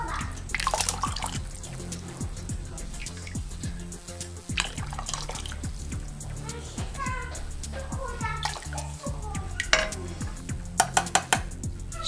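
Meat broth pours into a pan of roasted flour, giving a continuous close splashing and bubbling liquid sound with scattered drips and light clinks of stirring throughout.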